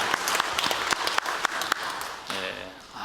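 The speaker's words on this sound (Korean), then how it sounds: "하나님께 영광의 박수 올립시다" Church congregation applauding during a Sunday worship service, a full room of steady clapping with sharper individual claps standing out, while a voice speaks toward the end.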